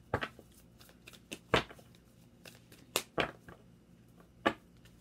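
Tarot cards being shuffled in close, quiet bursts of riffling and slapping, several separate shuffles spaced across a few seconds.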